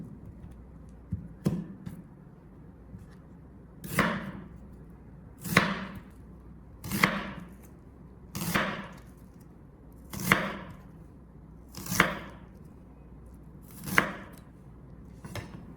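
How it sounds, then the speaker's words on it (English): Shallots sliced thinly into half-moons with a knife on a board, about nine crisp, evenly spaced chops, each with a short crunchy slide, close and clear with no talking. "slice them thinly into half-moon shapes"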